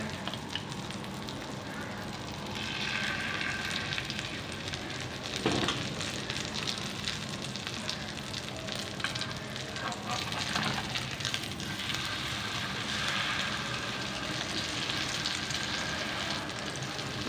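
An egg fries with bread in a pan over a slow flame, giving a continuous close sizzle with scattered pops and crackles that swell slightly in places.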